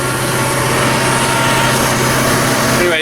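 A tractor engine fitted with a hedge trimmer drones loud and steady from inside the cab, a constant close mechanical roar while the machine creeps along slowly.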